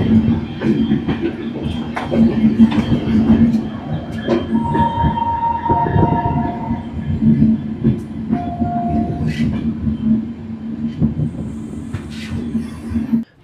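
The 13149 Kanchankanya Express on its Sealdah to Siliguri run: a continuous loud rumble with rhythmic rattling and steady tonal hums, heard from on board.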